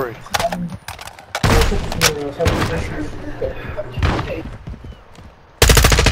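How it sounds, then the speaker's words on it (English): Gunfire outdoors, a series of sharp cracks and bursts, some rapid, ringing out loud over someone talking nearby. "I hear shooting too."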